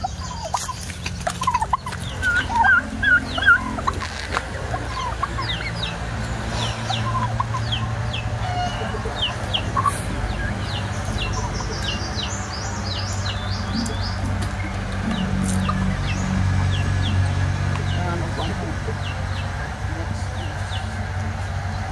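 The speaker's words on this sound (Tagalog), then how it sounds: "Ayan ang aming pabo." Bursts of domestic turkey gobbling mixed with clucking fowl and other birds in a busy backyard, with steady low background rumble and some voices.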